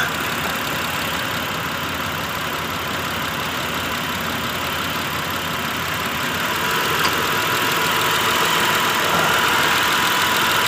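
A Mitsubishi Pajero Signature 4WD with a 3.8L V6 idles steadily nearby, giving an even, continuous hum and hiss with no change in revs.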